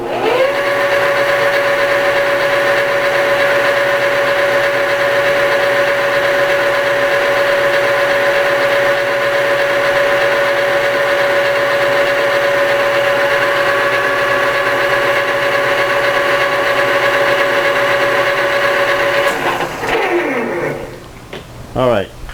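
A metal part spins steadily in a lathe, giving a loud, constant motor hum with a sustained whine that runs unbroken before winding down near the end.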